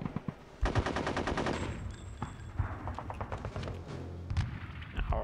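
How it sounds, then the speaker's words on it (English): Rapid rattling machine gun fire in the video game Conker's Bad Fur Day, one long sustained burst followed by scattered shorter volleys and thuds, loud and close. "And I got my machine guns."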